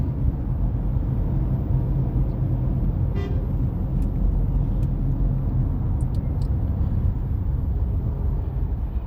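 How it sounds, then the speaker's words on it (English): Steady road traffic rumble from inside a vehicle driving through downtown streets in the evening, continuous engine and tire noise with a brief horn-like toot and faint high clicks. "Now we're in real traffic."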